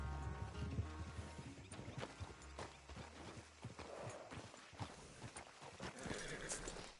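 Quiet hoofbeats clatter in an uneven rhythm while a horse neighs and snorts during a race in the video game Red Dead Redemption 2, all fairly faint against a low background.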